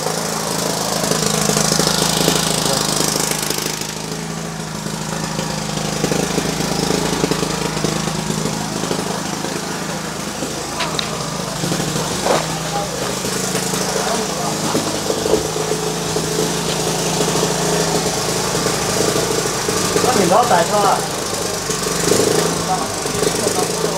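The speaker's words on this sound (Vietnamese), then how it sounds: "Máy nổ để chỗ không mưa nhá" An engine-driven generator runs steadily through the whole stretch, a constant loud mechanical hum kept out of the rain at a house roofing job, with rain and occasional clatter around it.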